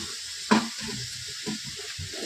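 Chicken chops frying with fresh mint and coriander leaves, a sharp sizzle burst at the start followed by softer intermittent crackling and stirring in the pan, close and moderately quiet.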